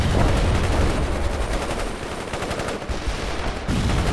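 Loud, continuous machine gun fire in the strategy game World in Conflict during an insurgents mission, a dense rapid rattle of shots with no talk over it.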